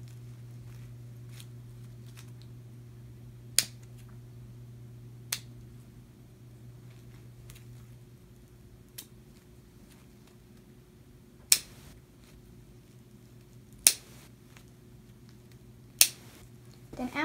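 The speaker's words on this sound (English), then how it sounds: "So you're gonna need to cut all the little tips off the flowers" Scissors snip the small tips off fake flowers for a horseshoe craft, giving sharp, isolated clicks spaced a few seconds apart over a quiet, steady low hum.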